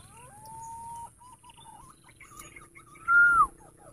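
Clear whistled calls of green pigeons, a sustained note then a louder rising-falling whistle near the end, over faint background noise.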